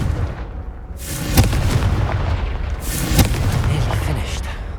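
A Confringo blast spell in the video game Hogwarts Legacy, with two loud booming explosive bursts over a dense, rumbling game soundscape.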